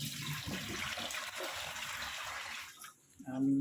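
Water splashes and rushes steadily as sweet potatoes are rinsed in an outdoor desert kitchen, a close, continuous wash that stops near the end, followed by a brief voice.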